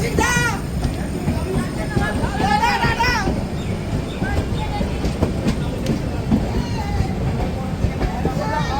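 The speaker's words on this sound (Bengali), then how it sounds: "ট্রেন কিন্তু আবার তার যাত্রা শুরু করলো।" Sealdah Rajdhani Express running on rails, a steady, loud rumble throughout with faint clicking, as children's voices and other talk carry over it.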